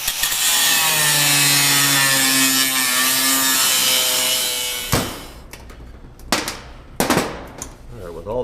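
A metal chopper seat pan being cut in a workshop: a loud, steady, high-pitched cutting whine for about five seconds, then several short, sharp bursts and clatters.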